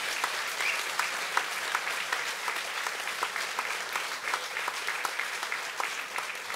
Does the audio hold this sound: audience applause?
yes